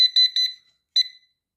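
Electronic beeping from a 1500 W 12 V inverter control board under repair, in two bursts: a quick run of four or five high, tonal beeps, a short pause, then two more. Clean and close, with nothing else audible.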